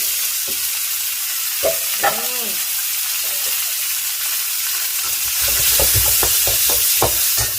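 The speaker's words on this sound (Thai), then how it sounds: "ลงไปตัดเลยกับน้ำมันหมู ใส่หมูสับบดหยาบๆ ไปเลย" Coarsely minced pork and Thai garlic hit hot pork lard for a holy basil stir-fry, a loud, steady close sizzle with scattered clinks of stirring that grows denser and louder toward the end.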